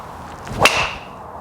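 A single sharp crack of an LST low-spin golf driver hitting a ball, close and loud, followed by a brief ringing tail and quiet.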